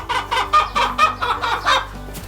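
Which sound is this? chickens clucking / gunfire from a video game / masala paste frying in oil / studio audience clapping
chickens clucking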